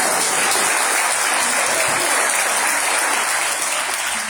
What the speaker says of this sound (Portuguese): Dá um aplauso, Senhor, para irmãos.